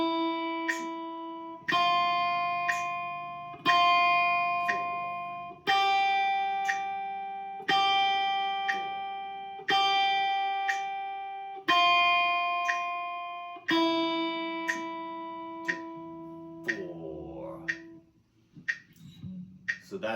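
Guitar notes held steadily for two counts each, a new pluck roughly every two seconds with a clear decay, as a beginner exercise, with faint metronome ticks at 60 BPM; the last notes turn scratchy and uneven.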